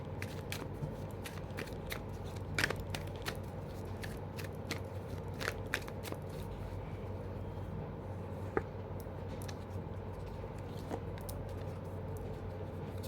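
Tarot cards are shuffled in a rapid, irregular run of soft clicks and flicks over a low steady hum, with no talking.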